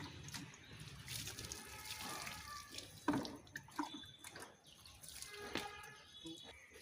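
Taro stem being washed under running tap water in a kitchen sink, a steady splashing stream broken by drips and handling sounds, close and alone without speech.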